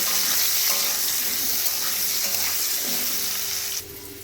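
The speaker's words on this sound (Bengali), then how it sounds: "কেটে রাখা আলুগুলোকেও এর মধ্যে দিয়ে হালকা করে একটু ভেজে নেব" Cut potatoes fry in hot oil with a little turmeric powder, giving a steady, close, broad sizzle that runs without pause and drops slightly in level near the end.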